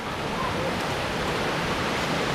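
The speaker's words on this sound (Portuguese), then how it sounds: "Muito bacana a Cachoeira do Tanque." Cachoeira do Tanque waterfall in Cachoeiras de Macacu, a steady, broadband rushing roar of falling water filling the whole span without letup.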